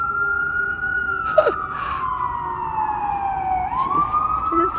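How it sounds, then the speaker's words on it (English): An ambulance siren wails steadily, its pitch sliding down and rising again, over the constant hum of road traffic with a couple of brief knocks. "It's freaking ambulance going."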